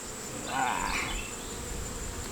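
Bees buzz steadily around an open beehive during a small hive beetle trap check, a close, continuous drone that swells briefly and then settles.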